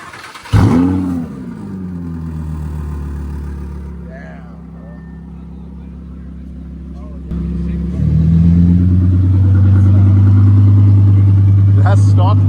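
A car's engine cranks and catches, then idles with a deep steady rumble before being revved higher and held loud, up close, with people talking over it.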